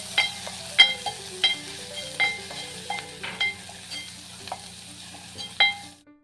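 Tomato and grated coconut sauté in a pan for an apple gourd curry, with soft sizzling under a string of repeated spatula scrapes and taps, ending abruptly.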